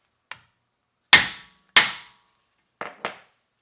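A hammer tapping on a bolt on a brake assembly during a brake job, five sharp metallic knocks spaced unevenly, two louder strikes in the middle, heard up close with silence between.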